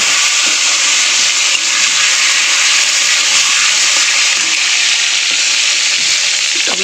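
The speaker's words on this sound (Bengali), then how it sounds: "আর দিয়ে দেবো কেটে রাখা টমেটো।" Chopped tomatoes hitting hot oil with nigella seeds in a wok, a loud, dense, unbroken sizzling hiss that holds steady throughout, close and alone.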